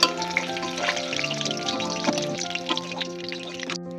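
Water lily (shapla) fritters crackle and bubble in hot oil, a busy popping sizzle close by, with a tonal hum running underneath throughout.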